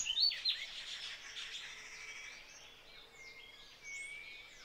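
Wild birds sing and chirp near the Huatulco River, with several high, quick calls overlapping at moderate distance over a soft, steady background hum of insects.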